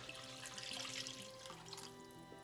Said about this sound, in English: now we're going to add our 3½ cups of beef stock